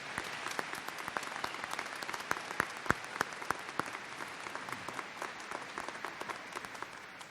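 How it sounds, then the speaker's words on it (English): Applause from a university commencement audience honoring a graduation speaker, a steady dense wash of many hands clapping with sharp individual claps popping out, sustained evenly throughout without speech. "Please give her another round of applause for the outstanding work"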